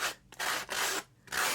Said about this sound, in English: now you can take the sanding block